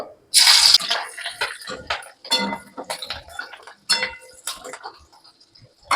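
Whole cumin seeds and slit green chillies spit in hot oil, giving scattered crisp pops and ticks with short quiet gaps between them, close and fairly loud.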